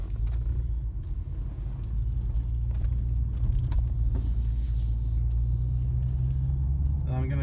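Steady low engine rumble and road noise from a 2011-2014 Nissan Maxima fitted with a new CVT transmission, cruising on a test drive, continuous and close inside the cabin.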